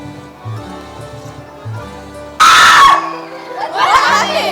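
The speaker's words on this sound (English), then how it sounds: "Did someone scream?" A sudden loud scream bursts out during a school stage play, cutting in after quiet background music and followed by a second, rougher shout over the music.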